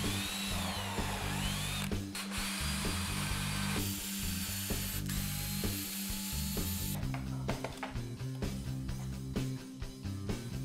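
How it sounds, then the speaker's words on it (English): A power drill bores pilot holes into plywood with a bit one millimetre thinner than the screw, for a lathe sanding station. It gives a steady, close motor whine that shifts in pitch, with brief bursts and scraping as the bit bites. "now I'll use a bit 1 mm less thick than the screw"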